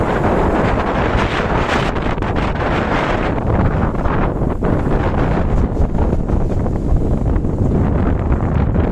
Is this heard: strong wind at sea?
yes